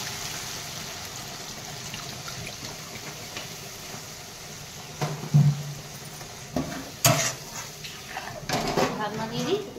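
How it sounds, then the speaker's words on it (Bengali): Water is poured into oil-released frying spices in a pan for bhetki fish bone curry, bringing a soft hiss and faint sizzle with a few clinks of a utensil, under a voice speaking. "এবার আমি জল দিয়ে দেবো লাস্ট"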